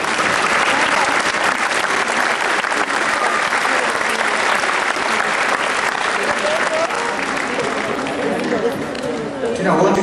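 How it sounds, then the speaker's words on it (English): A graduation crowd applauds the graduates' parents, a loud, dense wash of clapping that fills the hall and holds steady for the whole stretch before thinning slightly near the end. "I think that you should give them a round of applause."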